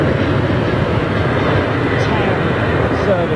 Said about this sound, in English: I've got a Virgin 350 going out.